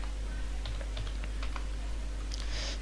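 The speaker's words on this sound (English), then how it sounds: "So I'm gonna type in equal filter" Light clicks of a computer keyboard as someone types into an Excel spreadsheet, a short irregular run of taps ending in a quicker flurry, quiet over a low electrical hum.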